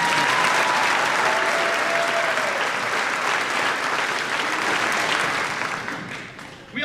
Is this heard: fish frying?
no